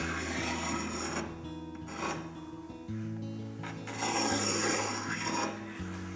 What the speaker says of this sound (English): diamond sharpener and just release that burr on the back side just a little bit